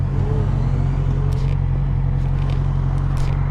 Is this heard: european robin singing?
no